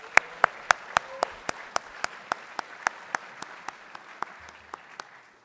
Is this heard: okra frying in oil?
no